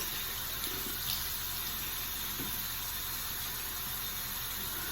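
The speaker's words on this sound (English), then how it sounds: "get it real good and warm or hot water" Warm water running steadily from a tap into a sink, a constant close hiss and splash with no break.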